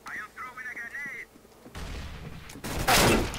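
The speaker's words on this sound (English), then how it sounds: "Shotgun." Video game shotgun fire in CS:GO on the Inferno map, loud booming blasts coming in quick succession and swelling toward the end, following a stretch of warbling in-game tones, close and dense.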